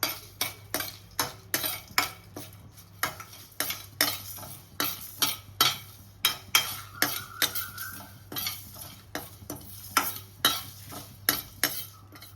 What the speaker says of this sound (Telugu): బగారాకు, 3 లవంగాలు, 2 ఇలాచి, బగారపు, వీటన్నింటిని లైట్గా ఫ్రై చేసుకుందాం